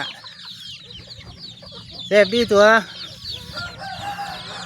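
Backyard chickens cluck while being fed paddy rice in the evening, with soft scattered clucks, one louder burst of calling midway and a person speaking briefly nearby.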